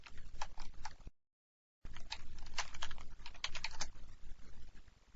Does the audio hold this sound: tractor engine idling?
no